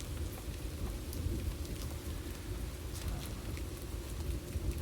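Rain falls steadily on a dark night, a dense continuous hiss and patter with a low rumbling undertone, constant in level and without any voices.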